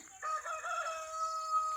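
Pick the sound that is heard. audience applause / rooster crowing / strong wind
rooster crowing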